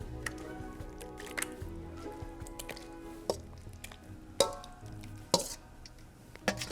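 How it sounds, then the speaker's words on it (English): Pumpkin bread pudding mixture spooned from a bowl into a baking pan, giving soft wet squishes and scrapes with a few sharper clinks of the spoon against the dish, close and fairly quiet. "The next step is to take your spoon and to just scoop it into the pan."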